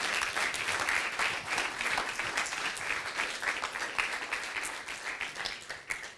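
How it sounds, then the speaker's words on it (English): An audience at a livestock genetics panel discussion gives a sustained round of applause, dense and steady clapping that gradually thins toward the end. "I hand you over, and a round of applause,"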